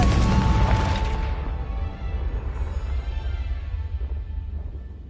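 A Confringo spell in Hogwarts Legacy bursts with a single loud, close boom that rolls into a low rumble and slowly fades over several seconds.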